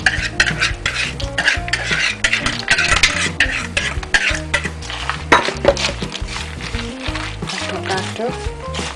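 Peanuts coated in egg and flour are stirred in a bowl, giving busy scraping, rattling and clinking from utensil and nuts while a person talks over it.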